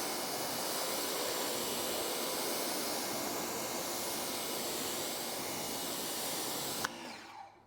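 A pressure washer sprays a car to strip off surface dirt, giving a loud, steady hissing roar that runs continuously for about seven seconds before cutting off abruptly, with no voices.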